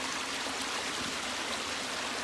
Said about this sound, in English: You can probably hear the water running behind me.